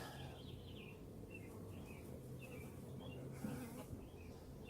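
Low, continuous buzzing of Italian honey bees flying around a newly installed hive outdoors, faint and steady, with small birds chirping now and then in the background.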